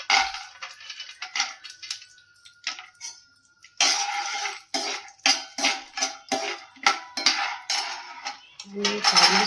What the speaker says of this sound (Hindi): अभी मैं ये काजू बादाम भून रही हूँ।